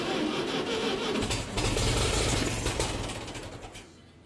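A Massey Ferguson TE20 tractor that has not run in years is being started with starting fluid. A steady, loud mechanical roar swells midway, holds for a couple of seconds, then fades away, close by with no talking.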